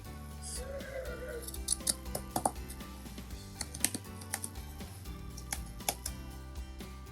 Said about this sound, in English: go ahead and trim off the excess fabric